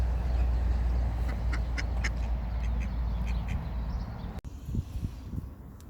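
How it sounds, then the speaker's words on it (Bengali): Ducks quack outdoors in New Zealand in a few short, bright bursts over a low steady background hum, moderately near, followed by a brief thump and some handling noise near the end. "একটু ওকে হাঁস পাখি টাখি এগুলো একটু দেখাই"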